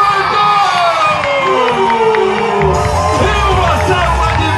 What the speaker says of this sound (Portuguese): E uma salva de palmas bem forte!